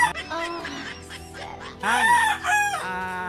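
Roosters crow in a small backyard gamefowl breeding yard. Two close, loud crows overlap with softer clucking and other fowl calls around them.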